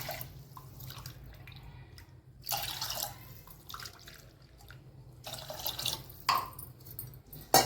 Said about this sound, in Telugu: ఒక గ్లాస్ బియ్యానికి 3 గ్లాసుల వాటర్ తీసుకుంటున్నా.